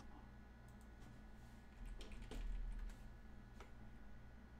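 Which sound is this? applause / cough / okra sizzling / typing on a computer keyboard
typing on a computer keyboard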